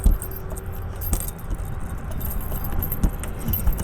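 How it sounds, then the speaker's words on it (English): A ring of keys jangles and clinks close by while someone sorts through them for the right lock key on an RV transport trip, with irregular metallic rattles and a few sharper clacks over low road or vehicle rumble. "Let me find the right key, see which one of these keys are gonna lock this up"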